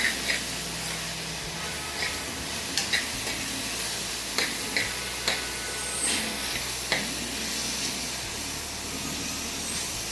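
Onion sautéing in a pan for Puneri misal, a steady low sizzle and hiss running throughout with occasional clicks of a spatula stirring, moderately close and with no talking.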